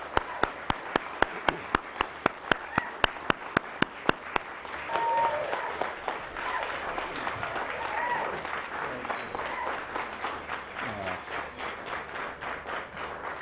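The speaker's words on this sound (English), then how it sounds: "a great tradition to raise awareness that deserves a huge round of applause" Scattered, distinct claps open a Nasdaq opening bell ceremony, then a fuller round of applause swells from the gathered group, with voices mixed faintly underneath as the clapping continues at moderate volume.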